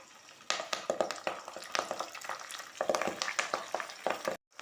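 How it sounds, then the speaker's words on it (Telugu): Hibiscus leaves dropped into hot oil crackle and sputter in a steady run of sharp pops and sizzles, close and fairly loud, for several seconds before cutting off abruptly. "ఇప్పుడు ఇందులోనే మందారం ఆకు వేసుకుంటున్నాను."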